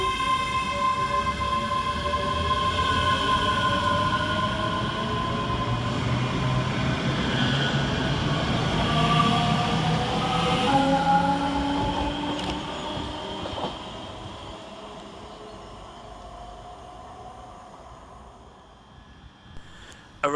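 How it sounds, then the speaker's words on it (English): A ScotRail Class 385 electric multiple unit, 385113, runs at Polmont station on an Edinburgh Waverley to Glasgow Queen Street service, giving a loud, close rolling rumble with rising and falling motor whine that fades as the train moves away. "385113, working the 1433 Scotrail service from Edinburgh Waverley to Glasgow Queen Street via Falkirk"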